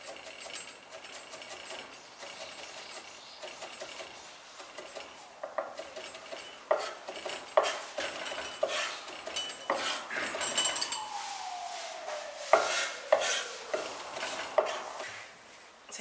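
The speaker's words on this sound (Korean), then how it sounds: "생강 다져서 두고요." A knife chops and minces ginger on a cutting board in a kitchen, making quick, uneven tapping knocks that grow denser and louder partway through. A faint sweeping whine is heard near the end.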